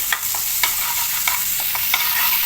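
Chicken patty filling sizzles steadily in a hot pan while a utensil scrapes and stirs through it in irregular strokes, close up and without talking.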